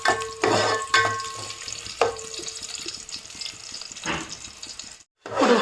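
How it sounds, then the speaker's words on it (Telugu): Onions sizzle and crackle in hot oil in a pot for Andhra-style chicken dum biryani, with a steady frying hiss, repeated clattering stirs, and a brief silence before the sizzling resumes loudly. "ఇప్పుడు మనం ఫ్రై ఆనియన్స్ వేపుకుందామండి"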